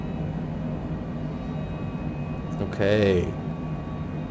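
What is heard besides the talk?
airplane engine during climb after takeoff from John Wayne airport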